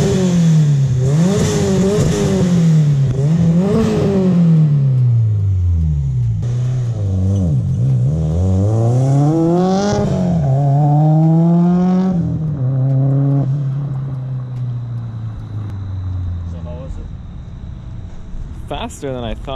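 Turbocharged LS V8 in a tuned truck with full exhaust revs loudly and repeatedly up and down, with rising and falling pitch, ending with a sharp blow-off valve hiss and fluttering near the close.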